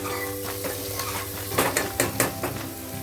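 Soybean chunks and onion fry and are stirred inside a pressure cooker, a steady sizzle running throughout with sharp metal spoon scrapes and clanks against the pot in the second half, close and with no talking.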